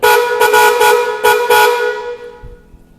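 A Honda GL100 motorcycle horn honks loudly and close up in a quick series of short blasts followed by one longer toot, then fades into quiet background noise.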